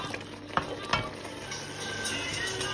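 Fish simmering uncovered with sorrel in a cooking pot, a soft continuous sizzle and bubble with two sharp clinks of a utensil against the pot early on, no voices.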